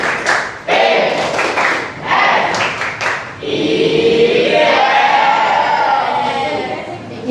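A school class performs the 'Tepuk IPS' clap routine, a series of sharp rhythmic group claps and thumps in short bursts, followed by a longer wash of crowd noise and chatter from the pupils.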